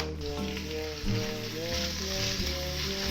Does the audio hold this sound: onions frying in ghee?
yes